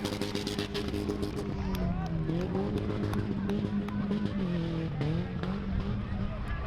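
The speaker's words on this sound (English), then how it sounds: "An old Subaru station wagon." Old Subaru station wagon driving at a UK car jump event, engine droning steadily with shifting revs and tire noise, close and loud over crowd chatter and voices throughout.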